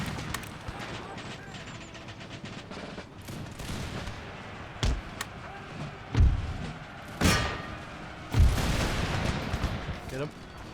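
Artillery fire in Empire: Total War, a mod set in a 13 Colonies campaign against the French, with scattered booms and heavy thumps amid crackling musketry, several louder blasts landing near the end, with a voice talking over it.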